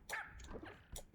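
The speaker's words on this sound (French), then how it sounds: "Le chien!" Dog in the video game REPO giving a short yelping bark, a quick bright burst followed by a second brief yip, heard close and fairly faint.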